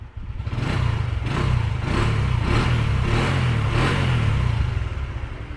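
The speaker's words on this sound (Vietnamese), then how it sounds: "Hiện tại là xe đang nổ ha." A 1999 Honda Wave 110 motorcycle with its original engine runs steadily at idle, a low even rumble with a faint rhythmic pulsing, close by and continuous with no revving.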